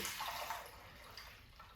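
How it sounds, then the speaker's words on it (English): Water poured into a container for an egg osmosis experiment, a soft steady splashing pour that fades to a quiet trickle, faint and close with no talking. "And now we use our water, pour it in here."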